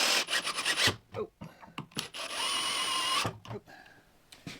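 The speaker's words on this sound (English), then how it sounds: "All the ugly sanding is done." Rasping, scrubbing strokes of sanding on a wooden farmhouse table leg assembly, coming in repeated bursts with short pauses and one longer steady stretch, fairly close and loud.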